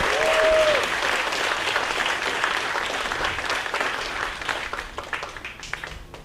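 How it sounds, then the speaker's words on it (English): A large audience at a high school gold shovel groundbreaking ceremony claps steadily for several seconds, a dense, loud wash of applause that thins slightly toward the end, with a brief whistle near the start. "I would love for you all to give a round of applause to Keith and our wonderful cheerleaders"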